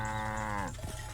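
A cow in the video game Wytchwood lets out a single short, bleating moo that holds steady, then breaks off and fades within about a second.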